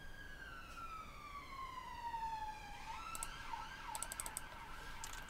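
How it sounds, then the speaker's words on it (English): Emergency vehicle sirens wail in London, a distant faint sweeping tone gliding down then rising again as a second siren overlaps, heard indoors beneath light keyboard clicks. "Excuse the sirens."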